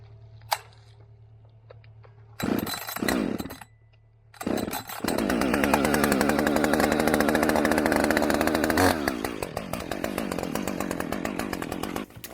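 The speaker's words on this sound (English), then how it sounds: "We're gonna be running the 562 20-inch bar X-cut full chisel chain on it." A 562 chainsaw with a 20-inch bar and X-cut full chisel chain cuts into a rotten pine snag from a storm-damaged tree. Two short, loud revs come first, then a sustained, close, roaring cut.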